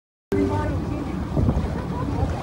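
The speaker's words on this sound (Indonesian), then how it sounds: "Ini di tengah laut Bapak Ibu." Wind and waves wash over a boat out in the middle of the sea, a steady broadband roar of rushing air and water that begins abruptly and holds loud and close, with faint voices mixed in.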